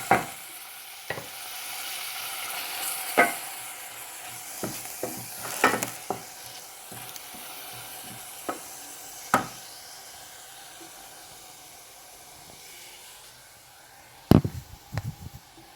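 Onions frying in a pan for a sauce while a corned beef meat pie is prepared: a steady soft sizzle underneath, broken by scattered sharp clicks and stirring scrapes, with a louder cluster of clatters near the end.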